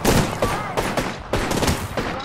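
Shotgun blasts in Apex Legends, several sharp, loud shots in quick succession with a rapid fusillade feel, close and dominant for a couple of seconds.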